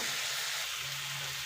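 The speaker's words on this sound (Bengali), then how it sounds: "মাছ একটু কষাই নেব, ঠিক আছে।" Fish being sautéed in a pan, a soft continuous sizzle and frying hiss, quiet and steady for a brief moment.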